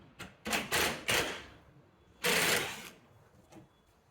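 A hand tool undoes a 10 mm bolt near the windshield washer pump of a Chrysler 300, making a few close, sharp ratcheting bursts, including one longer run, separated by quiet gaps with no voices.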